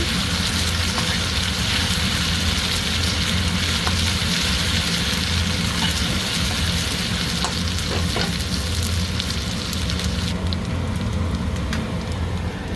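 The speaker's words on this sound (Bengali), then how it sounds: "আদা রসুন ভাজা হয়ে গেছে" Steady, loud sizzling of ginger-garlic paste frying in hot oil, a continuous crackling hiss that carries on without pause, with no voices.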